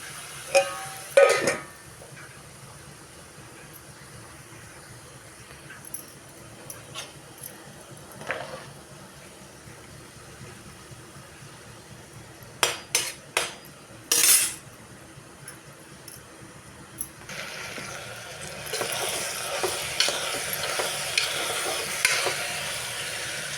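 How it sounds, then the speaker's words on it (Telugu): Ivy gourd cooking and being stirred in a pan: a faint, low sizzle with scattered scrapes and clinks of the spoon against the pan, then a louder, fuller frying hiss near the end, no speech. "కాసేపు దొండకాయలు కూడా మగ్గద్దామండి"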